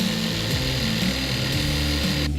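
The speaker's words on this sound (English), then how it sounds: "I cut out notches for them using the drill and jigsaw" A drill and jigsaw buzz and grind through wood in continuous bursts, close by, cutting notches with rhythmic strokes and a brief pause near the end.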